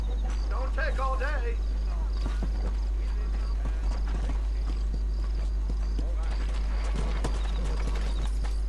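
Horse hooves clip-clopping in the Red Dead Redemption western game, a steady rhythmic trot with a brief whinny near the start, playing under game ambience and background sound.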